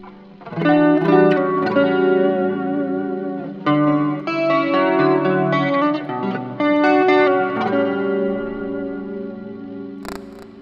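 An electric guitar plays through a distorted amp tone on an Axe-FX III modeler, treble boosted, sustained chords and notes ringing with a thick, slightly chorused sheen, played alone.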